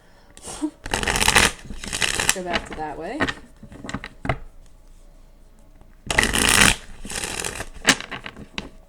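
Tarot cards are shuffled in quick riffling bursts near the start and again toward the end, with a voice talking briefly in between.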